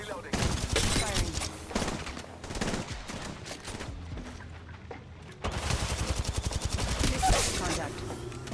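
Gunfire rings out in the Apex Legends closed beta. Dense automatic bursts and single loud shots come close together, pause briefly, then return as a fast, rapid-fire stream near the end.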